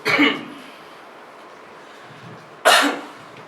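Two sharp coughs close by, one at the start and another a few seconds later, with quiet room noise between.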